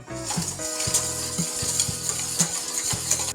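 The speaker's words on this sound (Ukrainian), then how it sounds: "Замішуємо до повного розчинення дріжджі." A utensil stirs yeast and sugar into warm milk in a bowl with soft rhythmic clinks and scraping, repeating about every half second, close up.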